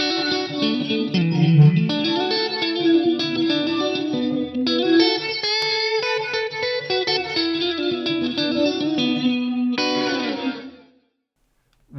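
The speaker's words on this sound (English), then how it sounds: "That's a super weird sounding flanger, I guess." A sustained synth or guitar chord swirls with a strange, sweeping flanger effect from an Axe-Fx III processor, shifting and warbling for about ten seconds before cutting to silence.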